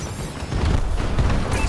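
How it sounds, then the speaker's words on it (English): Heavy booming explosions from an aerial bombing run in Call of Duty: Advanced Warfare, a dense rumbling barrage that swells louder midway and keeps pounding without pause. "Friendly bombing run incoming."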